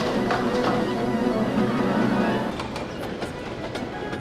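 A model train engine runs along its track with a steady rolling rumble and rhythmic clickety-clack, the sound easing slightly partway through, close and moderately loud with no voices.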